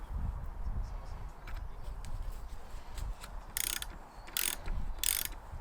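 A ratchet loosening spring compressors during a Mercedes W203 coil spring change, giving several short bursts of quick metallic clicking over a quiet workshop background.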